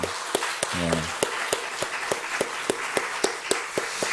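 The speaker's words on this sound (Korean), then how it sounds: "우리 자녀들을 위해서 한번 박수 한번 쳤으면 좋겠습니다." A church congregation claps for the children in steady, evenly spaced beats, a regular rhythmic patter after a brief voice at the start.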